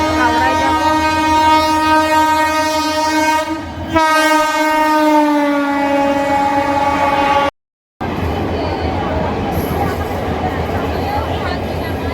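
A loud train horn blares in long sustained blasts as a train rolls into a crowded station nearby, with engine rumble and crowd noise underneath.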